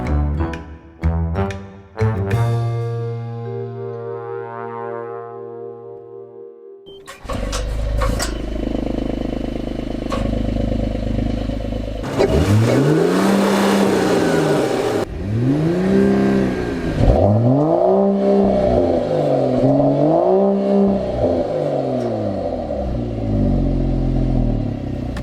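A 2019 Mercedes-AMG CLS53 with an electric supercharger, brake-torqued at altitude before a 0-60 run, starts with a chime and ignition, then its engine roars and surges in repeated loud, wavering revs held against the brakes.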